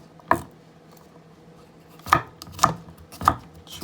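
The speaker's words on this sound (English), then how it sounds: "we're gonna cut up some of this onion peg right here" A knife chops onion on a cutting board while making Jamaican jerk seasoning: one sharp close chop, a pause, then three more spaced thuds, with quiet kitchen background between.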